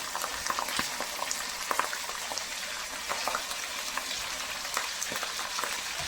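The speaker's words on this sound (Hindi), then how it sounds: "अब हम इसमें जो गला हुआ मीट था वो हम ऐड करते हैं" Tender cooked meat goes into a pot of browned onions for pulao and fries in a dense, steady sizzle with crackling pops and bubbling, close and continuous, with no talking.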